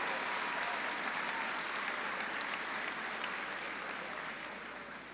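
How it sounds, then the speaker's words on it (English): A crowd at a high school graduation ceremony claps steadily for a graduate and his family, a dense, sustained round of applause that slowly fades toward the end. "Let's give a big round of applause to Gianni Rodriguez and his family for a job well"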